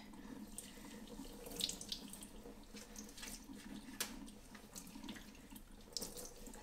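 Water runs from a tap into a kitchen sink during a dog's bath, a steady quiet splashing stream with small irregular spatters and drips, heard alone.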